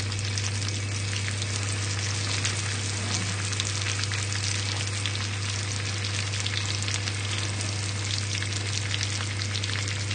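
Butter and sugar bubbling steadily in a pan as caramel for a pear tarte tatin, a continuous close fizzing sizzle with fine crackles, alone over a low constant hum.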